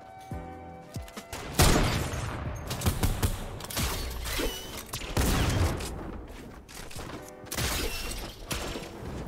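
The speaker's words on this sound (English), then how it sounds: "I think Tronson just tried to shoot him with the grappler." Fortnite combat with a grappler being fired, made up of several loud, sharp bursts of shots and mechanical clanks mixed with crashing, breaking sounds at close range.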